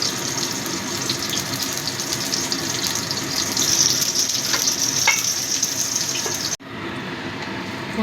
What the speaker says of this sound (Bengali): বাকি পটলগুলো একইভাবে ভেজে নেব।